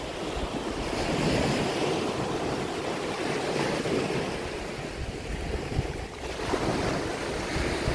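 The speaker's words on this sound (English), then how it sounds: "So this is actually the public beach. Anybody can come down here and hang out." Surf washes steadily onto a public beach in Hua Hin, Thailand, a continuous broad roar of breaking waves with gusts of wind buffeting the microphone, no voices.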